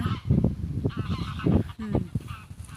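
Wild geese in Germany honk repeatedly at close range, a busy overlapping chorus of nasal calls with a few clearer honks standing out.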